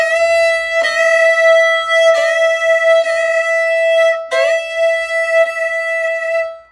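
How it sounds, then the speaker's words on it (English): Solo violin sounding open E on two strings at once, a bright sustained double-stop drawn in several long bow strokes with audible bow changes, close and loud with no talk, from the intro of a song. "It starts with open E, and when you hear them doing it on the recording, you can tell that they're playing two strings."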